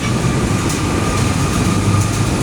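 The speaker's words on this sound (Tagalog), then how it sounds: "dumadaan na MRT" An MRT metro train in the Philippines rumbles past close by, a loud steady roar of wheels on rails with a faint high whine above it.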